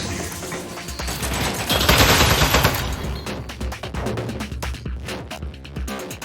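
Rapid turret gunfire in a video game, a dense, loud, continuous rattle of shots with a throbbing low rumble, sustained for several seconds.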